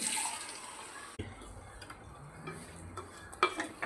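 Water poured into a pan of soya chunks masala with ground coconut, a brief splash and gurgle followed by soft ticks, clinks and light stirring, fairly quiet overall.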